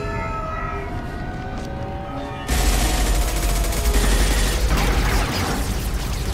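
Loud, dense gunfire in the video game Mass Effect 2 erupts suddenly after a quieter stretch of tonal game sound, a sustained fusillade of rapid shots with mechanical clatter running to the end.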